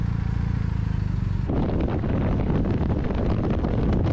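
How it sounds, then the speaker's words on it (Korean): Loud wind rushes steadily past, with the low drone of a BMW R1250RT motorcycle's exhaust running underneath throughout. "바람을 가르는 소리와 배기음이 역동적인 조화를 이룬다"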